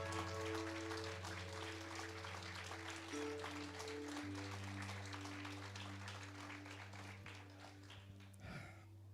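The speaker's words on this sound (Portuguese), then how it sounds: "dê um aplauso para Jesus" A church congregation claps steadily throughout over sustained organ-like music during a worship service, the applause fading slightly toward the end.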